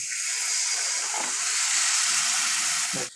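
A loud, steady sizzle and hiss from a hot pan as water is added to frying turmeric and chili powder, close up, cutting off abruptly at the end.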